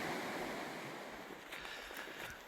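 Steady broadband rush of the North Fork of the Trinity River flowing past a trail ford in the Trinity Alps Wilderness, a continuous close wash of moving water with a little wind noise and no voices.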